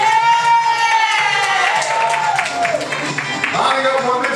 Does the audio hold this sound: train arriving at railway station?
no